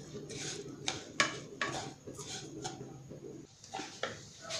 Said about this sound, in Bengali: কড়ায় নারকল এবং চিনি দিয়ে নারকলের পাকটা করব। এটা খুব কম আছে, আস্তে আস্তে নেড়ে নেড়ে করতে হবে